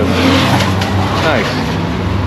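Cars of a car club driving nearby at a casino parking area, a steady engine rumble with some revving swelling and fading, loud and continuous under faint background voices.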